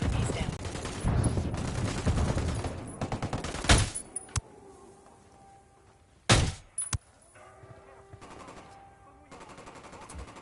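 Automatic gunfire rattles in Ghost Recon Wildlands, with heavy bursts early that thin into sharp isolated shots and a few loud cracks, leaving quieter gaps between them.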